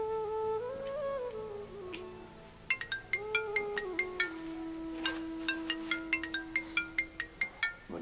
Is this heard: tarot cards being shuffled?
no